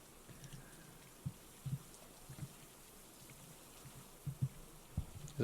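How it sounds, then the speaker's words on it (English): Rain falls in a scary video game set inside a house at night, a faint steady hiss with occasional soft low thumps scattered through it. "Is it raining out, or is it just never-ending water sounds?"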